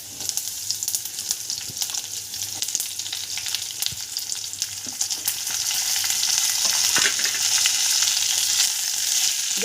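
Whole green chillies fry in oil over a high gas flame, giving a dense, continuous crackling sizzle that grows louder partway through, with occasional stirring scrapes and no voices.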